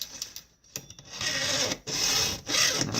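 A hand file sharpens a chainsaw chain tooth, giving close, rasping strokes: a few short scrapes, then two long steady passes separated by brief pauses.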